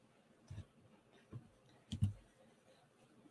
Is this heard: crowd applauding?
no